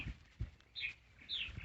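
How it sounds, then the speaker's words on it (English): Martins chirp in the background near beehives, producing a few short, bright calls spaced across the moment, with faint low thumps in between. "And those noisy birds you hear in the background are the martins."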